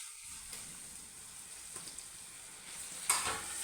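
Tomatoes fry in a pan for Kerala-style egg curry, a soft steady sizzle with occasional scrapes of stirring and a louder clatter near the end, no talking.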